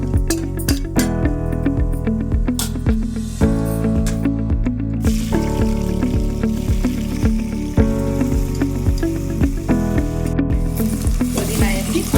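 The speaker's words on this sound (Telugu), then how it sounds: "మసాలా మిక్స్ చేసి ఫ్రై చేస్తాం." Masala mix for mushroom biryani fries in a pan. A metal spoon stirs it with loud, rapid clinks and scrapes, over a steady sizzle, close up and continuous.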